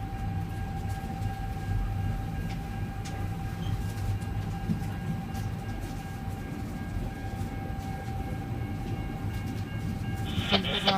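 VIA Rail Canada's Ocean passenger train rolls past with a steady, continuous rumble and rail noise that holds throughout, plus a sustained tonal hum; it swells slightly louder near the end. No one speaks.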